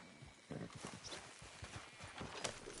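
A horse in the Red Dead Redemption 2 video game trots with steady clip-clop hoofbeats at close range, a continuous rhythmic run of thuds over faint background ambience, with no clear whinny.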